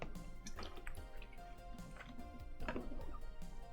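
Sips of water from an Ozarka 1.5 gallon bottle, close and quiet, with a few wet slurps and small liquid gurgles in an irregular rhythm, no talking.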